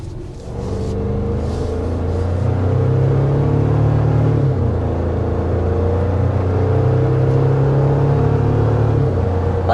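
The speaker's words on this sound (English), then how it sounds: "I like that you can hear turbo sounds." The turbocharged engine of a 2024 Toyota Tacoma Limited pickup accelerates in a steady, loud, close drone with a low rumble and rising whir, heard alone and without talk.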